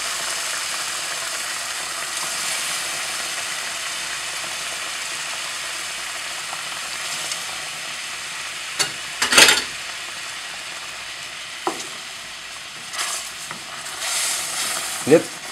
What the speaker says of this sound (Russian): Размешиваем, чтобы не было комков.